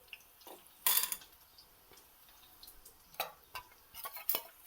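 Salted water poured into hot oil where thin raw banana wafers are frying, giving quiet bursts of sizzling and spattering with a few clinks of a metal utensil against the pan.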